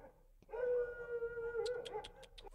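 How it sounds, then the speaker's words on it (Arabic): Dogs howling outside, a sustained mournful howl rising in from a distance, joined by a few short yips near the end. "لما الكلاب دي تسكت"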